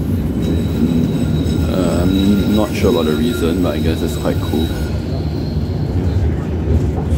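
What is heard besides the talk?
riding a tram, number 7, in Finland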